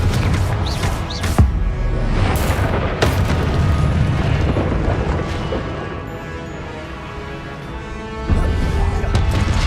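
Confringo fire spells burst in Hogwarts Legacy combat, several booming explosive blasts with crackling fiery bursts over a dense rumbling game soundscape, loud and close.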